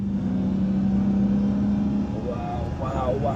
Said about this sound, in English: First time ever driving a car on a mountain road in America.